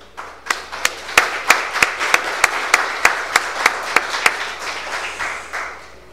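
Audience applause at a political training seminar, with a dozen sharp, distinct, evenly spaced claps standing out over softer background clapping that fades near the end.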